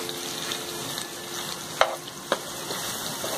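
Mutton tawa boti tossed with fresh coriander in a frying pan: a soft continuous sizzle with two sharp scraping knocks of a spoon against the pan, close up and without talk.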